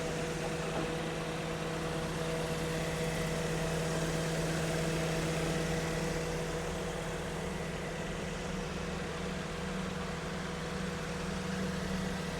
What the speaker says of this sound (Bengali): এই যে চলতেছে কম্পোসার শব্দটা শুনতেছেন আপনারা